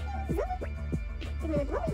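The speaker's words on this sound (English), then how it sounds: "Is that why the dogs are like so barking?" Several dogs bark and yip in quick, repeated bursts from indoors nearby, with a steady background hum underneath.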